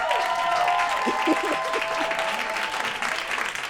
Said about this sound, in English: So you guys give them another round of applause.